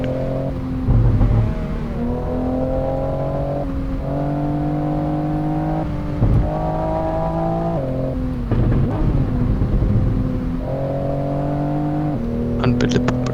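A car engine burbles and revs in repeated rising and falling pulls on a wet night drive through the Shutoku expressway, loud and close, with a few pops between the revs.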